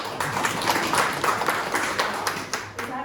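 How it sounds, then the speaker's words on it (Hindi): A crowd gives loud applause, a dense wash of clapping that holds steady and tapers slightly near the end, with voices faintly mixed in. "जोरदार तालियां"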